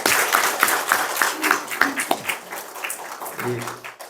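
A church congregation at an Easter service claps together in uneven bursts, the applause rising and falling under some murmuring in a reverberant hall.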